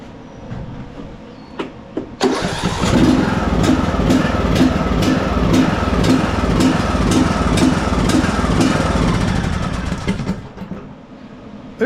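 A John Deere D110 riding mower engine, fitted with a new carburetor, starts and runs loudly and close, its revs rising and falling in rapid rhythmic surges for several seconds before cutting off.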